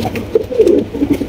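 Siraji and chocolate-colored Mukhi pigeons coo close by in low, throaty, overlapping murmurs and short rolling calls, loud and continuous.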